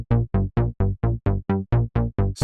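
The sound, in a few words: synth bass step sequence played on SubBoomBass-2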